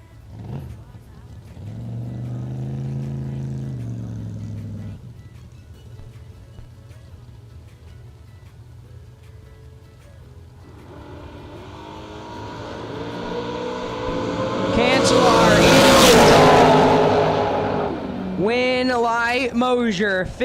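Bracket drag race cars at a TB Promotions Twin 50's event, engines idling and rising in pitch, then a loud roaring launch with revving and gear changes passing close by, under announcer commentary.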